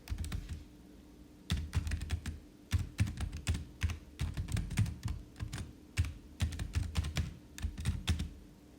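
Rapid, uneven keystrokes on a computer keyboard, typed in quick bursts with short pauses against a steady low hum, close and moderately quiet with no voices.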